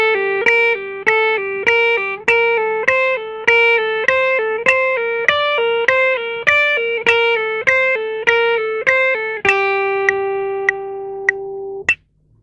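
Electric guitar pull-off exercise in eighth notes at 100 beats per minute, with clean, evenly spaced picked and pulled-off notes in a steady pulse, played up close with no talk and ending on a long ringing note.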